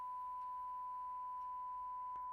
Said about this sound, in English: only you are hearing sine wave